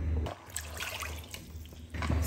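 Water is poured into soaked rice in a cooking pot, 4.5 glasses for 500 grams of rice, making a continuous close splashing gush that pauses briefly before resuming, with no speech.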